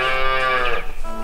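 A single old cow lets out a long, loud, close moo that holds steady and then trails off into a short, lower tail.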